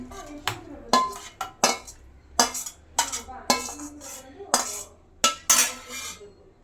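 Fried masala for paneer butter masala is scooped from a pan into a mixer jar with a metal spoon, giving about nine close, sharp clinks and scrapes in an uneven rhythm, with no talking.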